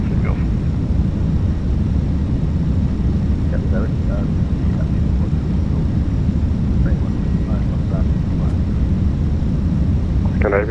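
A Jet2 Airbus A321 airliner takes off at night in a flight simulator game, its engines producing a steady, loud, low roar throughout, with faint radio voices now and then.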